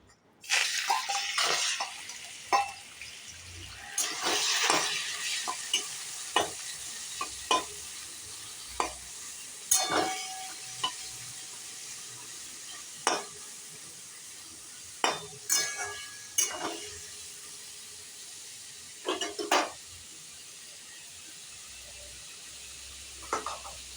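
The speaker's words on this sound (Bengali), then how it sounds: "তেলটা গরম হয়ে গেছে, এবার চিংড়ি মাছগুলো ভেজে নেব।" Prawns fry in hot oil in a pan, giving a steady close sizzle broken by repeated metal-on-pan clinks and stirring scrapes, with no talking.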